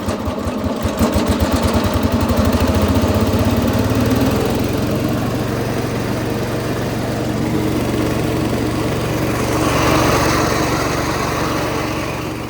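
Cub Cadet 105 lawn tractor engine, not yet warmed up, runs loud and close with a steady buzzing drone, sputtering unevenly at first and then rising briefly as the throttle is opened.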